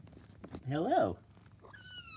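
A young, hand-fed kitten gives one clear, rising-and-falling meow up close, with faint background noise and a brief high tone near the end.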